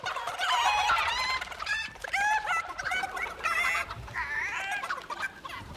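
Chickens in the Fortnite video game cluck and squawk steadily, a busy run of overlapping calls close by and fairly loud, with no talking.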